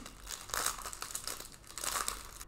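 A Yu-Gi-Oh card pack wrapper being torn open, close, quiet crinkling and crumpling of foil plastic in uneven bursts.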